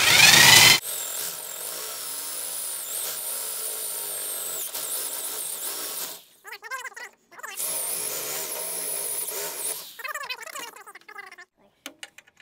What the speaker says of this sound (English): You have to drill out these rivets.